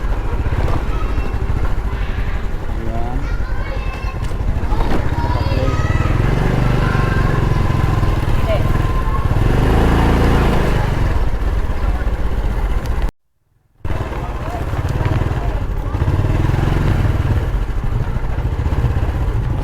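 A motorcycle engine running nearby with a steady low rumble and mechanical clatter throughout, briefly cutting out near the end before resuming, with faint background voices.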